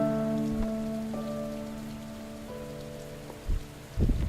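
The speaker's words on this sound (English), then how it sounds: "Ah yes, 'tis raining." Steady rain falling on surfaces, a continuous, fairly loud hiss that fills the whole scene, under sustained tonal game music and a few soft thuds.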